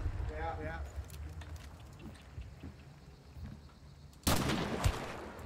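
Gunfire rings out in the Hunt: Showdown video game as a loud burst of shots near the end, following quieter stretches with scattered distant pops. Players talk over the game throughout.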